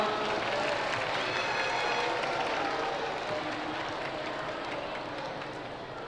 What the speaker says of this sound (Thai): ขอเสียงปรบมือต้อนรับน้องๆอีกครั้งหนึ่ง